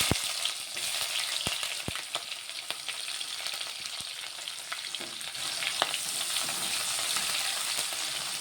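Chopped onions sizzle in a pan with dried red chillies and asafoetida for a cabbage and chana dal curry, a dense continuous frying hiss with occasional stirring taps, close and steady, with no voices.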